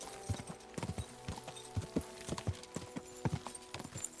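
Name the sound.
horse hooves galloping in video game Kingdom Come: Deliverance II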